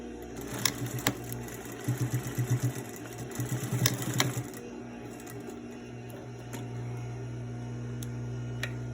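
A sewing machine runs a second row of stitching on a cloth face mask, its rapid needle chatter coming in several short bursts over a low motor hum, then easing to a quiet idle with faint clicks.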